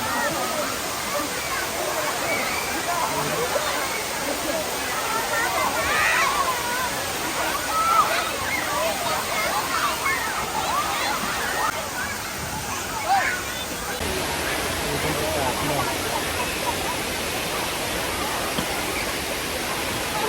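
Constant roar of Sai Yok Noi waterfall in Kanchanaburi, Thailand, a dense rushing wash that fills the whole stretch, with faint crowd murmur mixed in.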